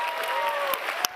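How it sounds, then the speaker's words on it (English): Audience applause at a Harvard startup pitch event, a steady wash of clapping from a crowd that holds for about a second with a couple of sharper claps standing out. "I want to give them a round of applause for that"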